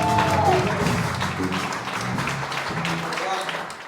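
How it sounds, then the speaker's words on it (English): An audience at a jazz festival showcase applauds steadily, a wash of clapping with some voices mixed in, fading slightly toward the end. "How about a round of applause for"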